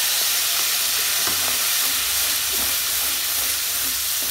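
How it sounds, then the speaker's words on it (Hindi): Spinach paste goes into frying masala of spices and cumin powder in a pan over medium flame, giving a continuous loud sizzle and hiss with soft stirring scrapes and no voices. "अब इसमें हम दे देते हैं पालक के पेस्ट को।"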